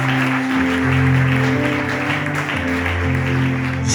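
A church congregation applauds, a dense wash of clapping mixed under loud sustained music, steady for the whole stretch.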